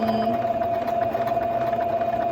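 A sewing machine stitches the seam of a fabric mask, giving a steady, close mechanical hum with a fine rapid rattle that runs unbroken for a couple of seconds.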